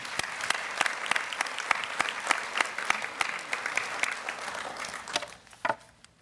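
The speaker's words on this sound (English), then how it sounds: "You clap." A crowd at a high school all-star awards banquet applauds steadily, many hands clapping at once with a few sharper claps standing out, then the clapping fades near the end.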